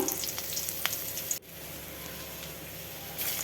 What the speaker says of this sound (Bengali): মাছ ভাজার তেলে দিয়ে দিলাম পাঁচফোড়ন শুকনো লঙ্কা